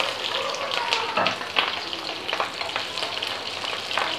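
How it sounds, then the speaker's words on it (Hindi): Sliced red and green bell peppers and onions sizzle and fry steadily in a hot pan for a vegetable kebab dish, with occasional stirring clatters over the continuous crackle and no talking. "ये कुछ वेजीज हम यूँ इसे फ्राई कर लेंगे"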